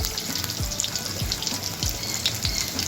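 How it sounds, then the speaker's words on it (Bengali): Cauliflower florets fry in hot oil on a high flame, a steady crackling sizzle with soft bubbling throughout and a few dull low thumps recurring at regular intervals, with no voices. "ফুলকপিগুলো খুব সুন্দর করে ভাজা হয়ে গেছে, এবার আমি তুলে নিচ্ছি"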